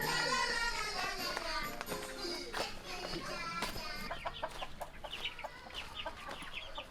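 Small Ayam Cemani chicken giving repeated short clucks and calls at close range, with scattered taps and light background noise, no talk.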